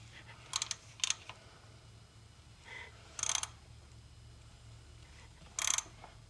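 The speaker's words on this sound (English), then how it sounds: "Make sure the socket doesn't slip. And I'm barely tightening it." Socket wrench ratcheting on a bolt of a Ferris IS2200 mower, a few short, sharp clicking bursts spaced irregularly over faint background hum, close and quiet.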